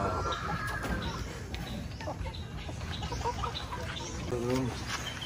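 Light Brahma heritage chickens cluck and murmur nearby on a poultry farm, with a short rising call near the end over a busy background of other birds.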